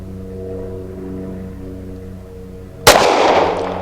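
A single loud, sharp gunshot from a Tisas Night Stalker 1911 pistol cracks suddenly out of a steady low hum and then rings briefly as it decays.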